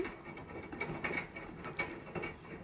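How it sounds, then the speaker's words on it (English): A Samsung washing machine shaking badly during a cycle, heard as faint clattering and ratcheting mechanical rattles with irregular knocks, fairly quiet, no voices. "Because this washer does some really bad shaking."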